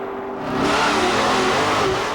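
A Comet wagon drag car from 1960s Southern SS/FX racing revs hard and loud, its engine note climbing and holding as it accelerates, close and alone.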